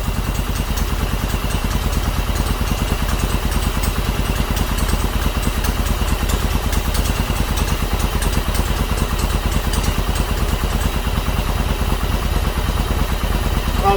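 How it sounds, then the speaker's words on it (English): A Yamaha Virago 1100 engine, running without its air cleaners fitted, idles close by with a steady, rhythmic clattering throb that continues unbroken throughout. "Oh, that air cleaner makes a funny noise."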